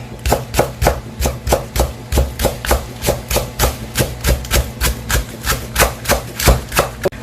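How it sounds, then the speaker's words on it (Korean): Green onion, a single stalk with only the top part, sliced finely with a knife on a cutting board for stir-fried sweet potato stems: a steady run of about twenty sharp, evenly spaced chops, close and clear, with no talking. "이렇게 쫑쫑 썰어줍니다"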